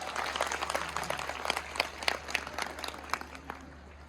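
Audience applause at a school event in Sialkot, a dense, continuous patter of many hands clapping at moderate distance, steady for the full length with no talk over it.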